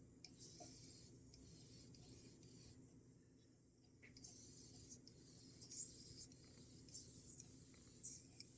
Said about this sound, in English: Or I got clogged. It's kind of spraying a little funny.